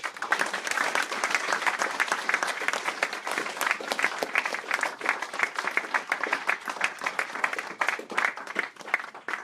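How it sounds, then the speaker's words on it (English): An audience at a poetry reading applauds, a steady spread of many hands clapping at moderate volume for several seconds, with a few voices mixed in. "round of applause for David Wyatt, everybody."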